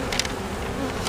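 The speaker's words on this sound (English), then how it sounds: "Got a ton of bees in here." A dense swarm of bees hums continuously and loudly inside an open beehive being combined for winter, a steady close buzz with no talking.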